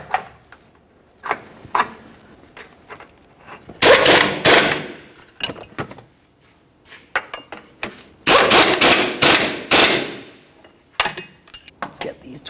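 Lower control arm mounting nuts are run down on a 2012-2018 Nissan Altima. A loud power tool rattles in several hard bursts, with metallic clinks and quieter handling noises in between.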